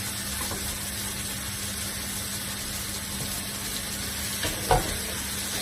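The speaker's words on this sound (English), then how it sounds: "So the onions are cooking away and the tomatoes are cooking away." Onions and tomatoes cooking down for chicken tikka masala, a steady close sizzle in the pan with one brief clunk near the end, no talking.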